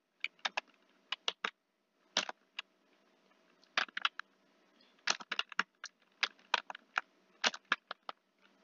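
Computer keyboard keys clatter in short bursts and scattered single taps, close and clear against a quiet room with no talk.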